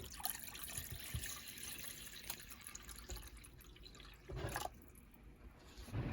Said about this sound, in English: Now we got Chancho's water bowl